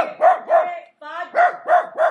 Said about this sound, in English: Did he growl at you? For what you're growling?